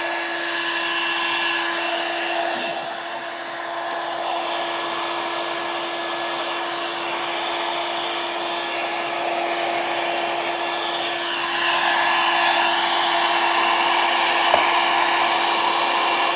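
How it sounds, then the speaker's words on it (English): Heat gun blowing hot air with a steady loud whirring roar and a constant motor whine, running unbroken throughout. "I have to get my heat gun warm. And it is noisy"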